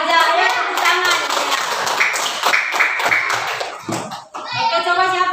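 Young children clapping their hands together in a classroom after a storytelling lesson, short bursts of claps mixed with a teacher's voice and children's chatter.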